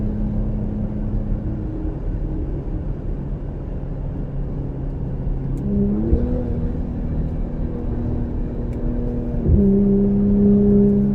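A 2020 Ford Explorer ST with a 3-inch Thermal R&D exhaust drones steadily at about 4,000 RPM in fourth gear on a mountain road, a loud continuous engine hum with a rise in pitch near the end.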